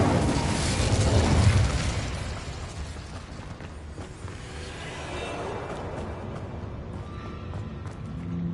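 Incendio, a fire spell cast in Hogwarts Legacy, bursts out with a roaring whoosh for about two seconds, then settles into a lower, fading rumble.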